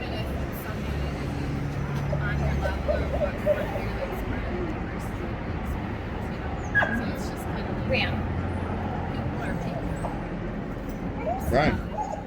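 A dog barks, yips and whimpers at a gate amid a busy outdoor murmur of voices and distant traffic, the yelps coming in short bursts near the end over steady background noise.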